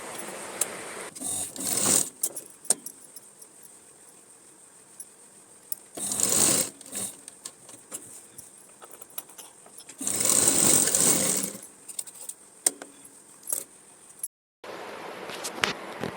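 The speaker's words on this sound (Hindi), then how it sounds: "थोड़ा थोड़ा कट लगा के इस तरह से पलटी करके सिलाई लगा लेंगे" A sewing machine stitches a folded fabric strip onto a girl's dress in three short loud bursts of whirring, each about a second long. Quieter clicks and fabric handling fill the gaps between them.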